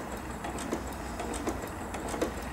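A Janome 15000 sewing machine stitches through fabric with a zigzag stitch, giving a quiet, steady mechanical whir with faint regular ticks, close by and alone.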